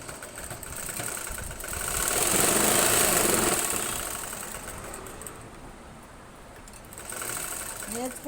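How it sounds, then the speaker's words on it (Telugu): A sewing machine stitches the second side of a garment in a tailoring class, running in a continuous whirring burst that swells, eases and picks up again, with a voice faintly underneath. "ఇప్పుడు మళ్ళీ రెండో సైడ్ కుడుతున్నా."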